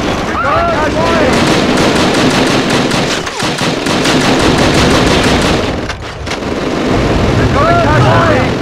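Sustained machine gun fire roars in a World War II Call of Duty: Roads to Victory battle on PSP, loud and continuous with rapid rhythmic shots, briefly dipping twice amid explosive battlefield noise and shouted voices.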